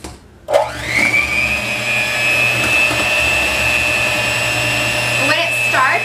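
Electric mixer beaters whipping egg whites for a chocolate peppermint pie, the motor starting abruptly and holding a loud, steady high whine with a faint low hum underneath.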